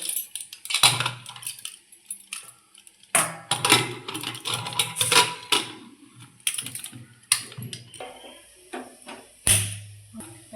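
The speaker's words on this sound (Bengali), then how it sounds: "প্রেশার কুকার আচ্ছা গ্যাসে বসিয়ে দিলাম" A pressure cooker holding duck eggs is set down on a gas stove, making a string of sharp metallic clanks and clatters in uneven bursts, close and fairly loud, with quiet gaps between.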